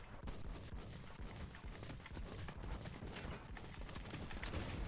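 Rapid, dense video-game gunfire from a multiplayer shooter crackles continuously at a steady loud level, with bursts overlapping throughout and no clear pauses.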